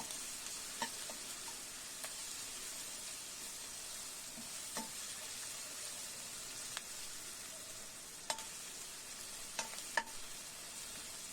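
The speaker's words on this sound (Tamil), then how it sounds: "வெங்காயம் நல்லா முருவலாக வதங்குது." Onions sauté in a pan for a brinjal and potato poriyal, making a faint, steady hiss with scattered light pops and taps from stirring spread through the quiet stretch.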